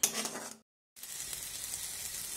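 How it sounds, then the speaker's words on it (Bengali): Spices and ingredients sauté for a Bengali-style egg omelette curry, a steady close sizzle with a brief silent gap near the start before the frying resumes, no voices. "সব উপকরণ ভালোভাবে কষিয়ে নিতে হবে যাতে একটু কাঁচা মশলার গন্ধ না থাকে"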